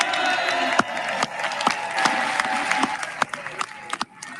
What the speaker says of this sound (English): Could they cut all the clapping out this time?